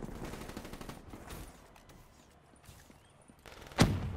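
Gunfire in the Call of Duty game on the Nuketown map: scattered, fairly quiet bursts of automatic shots, with a sharper, louder burst near the end.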